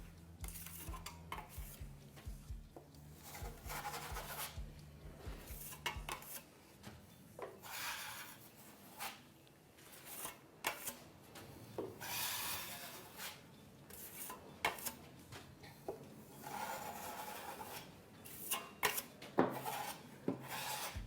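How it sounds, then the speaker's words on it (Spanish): A trowel spreads a thin coat of joint compound over drywall, giving repeated scraping, rubbing strokes at close range in an irregular rhythm, with a low hum fading out early on. "Aquí lo que estoy es dando una capa, por decirlo así, fina de masilla pasta para poder entrar a lijar y pintar"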